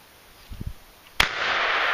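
A single sharp, loud shotgun blast while turkey hunting in North Carolina, with low thumps just before it, cracking out nearby and leaving a wash of outdoor noise behind it.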